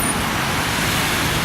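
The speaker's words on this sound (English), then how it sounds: "So over there is the most horrendous traffic jam." Rush-hour traffic in Bucharest, Romania, around a heavy morning jam: a dense, continuous roar of cars, buses and trucks with no voices over it.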